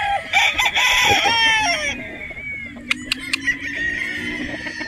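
A Boston Roundhead broodstag rooster crows loudly and close, one long drawn-out crow followed by a few short clucks.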